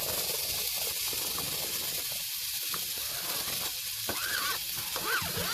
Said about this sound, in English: We're going to put the onion and the celery in tonight at the same time.